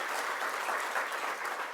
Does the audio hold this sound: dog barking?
no